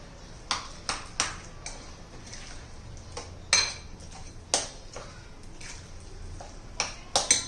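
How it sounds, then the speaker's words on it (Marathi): Spoon mixing finely chopped onion and salt into moong dal batter in a bowl, giving scattered sharp clinks and scrapes against the vessel, close, with quieter stirring between and no talking. "कांदा बारीक चिरून घालायचा आहे चवीनुसार मीठ घालायचे छान असं व्यवस्थित मिक्स करून घेऊया"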